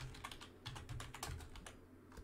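Rapid keystrokes on a computer keyboard, entering software download searches for DirectX, .NET Framework and Java, a close, steady burst of clicky taps with brief pauses, no voices.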